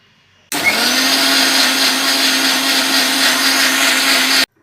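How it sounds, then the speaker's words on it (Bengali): An electric mixer grinder grinds a spice mixture with salt, starting abruptly with a loud, steady whirring motor drone that runs about four seconds before cutting off. "এবার এটাকে বেটে নেব"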